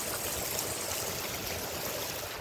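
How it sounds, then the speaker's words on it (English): Rain falling heavily outdoors, a steady dense hiss and patter of water close by, with no voices. "guys, it's starting raining right now."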